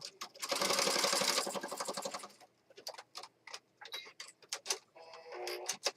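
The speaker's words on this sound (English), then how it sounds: "You want to make sure that if you're stitching over papers that you glued, that the glue is dry" A sewing machine zigzag stitching over glued paper in a journal runs in a loud, fast burst, then gives way to irregular ticks and clicks of handling with a few brief stops.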